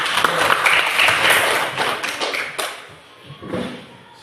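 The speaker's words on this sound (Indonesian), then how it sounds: "Tepuk tangan untuk si." Students in a classroom clap for a classmate, a dense burst of many hands at moderate distance that thins and fades toward the end with a brief late flurry.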